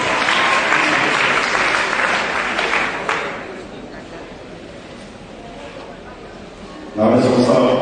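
Church congregation applauding loudly to acclaim the Lord at a ceremony handing over funding to women, the clapping fading to a lighter patter before a fresh loud burst near the end.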